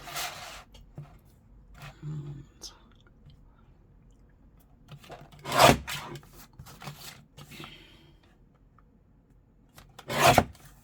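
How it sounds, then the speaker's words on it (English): Paper trimmer slicing through craft card, two sharp rasping cuts near the middle and end, separated by quieter handling noises, close and fairly loud. "Craft card. Okay, so I'll use that trimmer."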